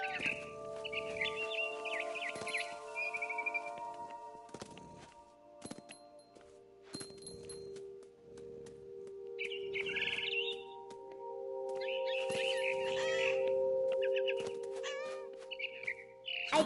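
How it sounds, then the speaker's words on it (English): Bird chirps in the video game What Remains of Edith Finch sound as scattered bright bursts over a constant humming game ambience, with occasional thunks and clattery noises and no talking. "Then I heard chirping outside my window."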